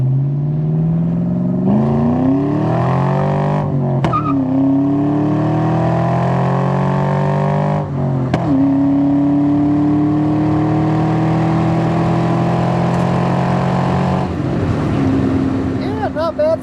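A 1996 Ford Mustang Cobra with a 4.6 V8 and Borla exhaust accelerates hard through several gears, each loud rising pull broken by a quick shift, heard close from inside the car with occasional talk.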